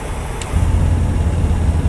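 Peterbilt truck engine in American Truck Simulator with the windows down, a steady low diesel drone that steps up louder about halfway through and holds as a continuous rumble, with no talk over it.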